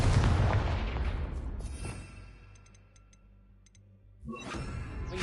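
Confringo spell explosion in Hogwarts Legacy: a loud, booming blast at the start fades over about two seconds into quiet game ambience with faint ticking chimes, then a second burst of noise rises near the end.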